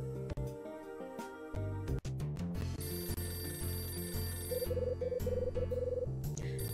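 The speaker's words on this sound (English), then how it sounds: "The front desk phone is ringing." A front desk telephone rings in the video game Hotel Dusk, repeated trilling rings over a steady game music background at moderate volume.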